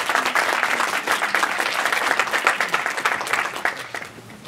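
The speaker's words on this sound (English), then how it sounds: "round of applause for Team Involvement" A crowd at a student elections candidates forum applauds steadily, dense clapping holding strong throughout before easing slightly at the end.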